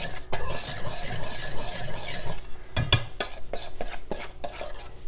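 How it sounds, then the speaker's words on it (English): Dry donut ingredients are mixed in a bowl, with repeated scraping and tapping strokes of a utensil against the bowl, close and fairly loud, a few sharper knocks near the end. "Let's mix all these dry ingredients."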